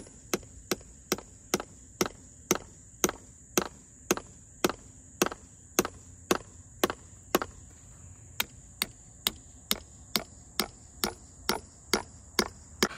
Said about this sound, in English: I'm not hammering hard, I just want to go slow